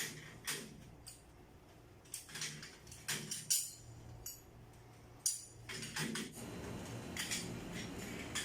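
Crystal pieces of an LED chandelier being fitted into their holes, giving scattered light clinks and taps amid handling noises, fairly quiet and close.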